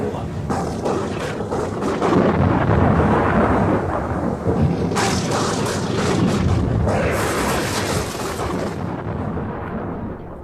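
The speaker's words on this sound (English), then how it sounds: "One of the greatest storms on record has recently been experienced here" Thunderstorm in a 1895 ship-at-sea drama, heavy rolling thunder rumbling loudly over steady rain for the full stretch, with a crackling surge midway and another toward the end, no voices.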